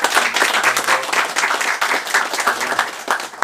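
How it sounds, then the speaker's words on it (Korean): An audience at a Korean political lecture claps in a close, loud burst of applause lasting a few seconds, the individual claps distinct and continuous. "큰 박수 다시 한번 부탁드립니다"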